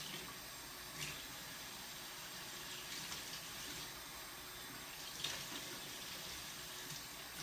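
Steady running tap water splashes into a sink as frozen fruit is washed, a continuous even wash of water with a few small knocks and splashes along the way and no voices.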